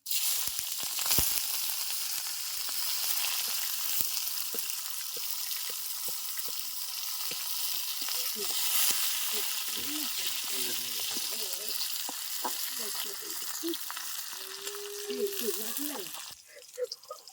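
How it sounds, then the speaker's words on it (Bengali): Bay leaf, cumin, dried chilli and chopped onion frying in white oil in a kadai, a continuous loud sizzle and crackle filling the whole stretch, with a few faint scrapes near the end. "কড়াইতে দিয়ে দেবো সাদা তেল। দিয়ে দিচ্ছি গোটা তেজপাতা, জিরে, শুকনো লঙ্কা, পেঁয়াজ কুচি"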